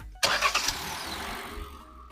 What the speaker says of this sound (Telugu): ఇప్పుడు ఒకసారి ఇంజిన్ సౌండ్ విందాం.